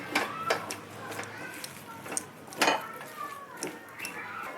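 Semolina dough with sugar being stirred in a pan, with repeated clinks and scrapes of a spoon against the metal at an irregular rhythm, close and moderately loud, under faint background noise.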